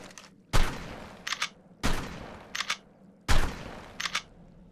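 Three loud shotgun blasts from the Ark Survival Ascended video game, spaced about 1.3 seconds apart, each followed by a double mechanical pump-action clack.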